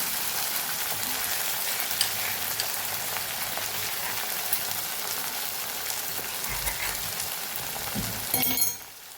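Okra sautéing in a pan gives a steady, close sizzle and frying crackle throughout, with occasional stirring scrapes and a brief louder clatter near the end.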